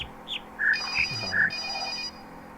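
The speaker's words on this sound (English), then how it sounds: "Somebody turn off their cell phone." A cell phone rings with a bright electronic melody of short chirping tones over a soft background hum, repeating a few times across a couple of seconds.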